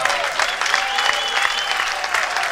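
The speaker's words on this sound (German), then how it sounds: "nochmal einen riesen Applaus für einen Megakampf für beide Fighter" Crowd at a boxing event claps steadily after a fight, a dense, even roar of applause filling the hall with no voices rising above it.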